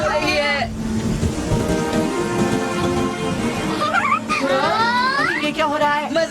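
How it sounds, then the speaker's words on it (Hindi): Cartoon rain falls in a steady hiss over a ship in a Doraemon animated movie, with squealing character voices and tonal effects layered on top. "बारिश हो रही है।"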